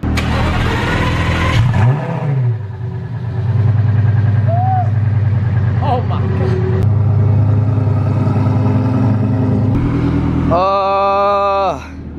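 A Lamborghini Gallardo race car with a gated manual gearbox idles with a deep burble, revs up and holds a loud drone, then a final high-pitched rev climbs sharply near the end.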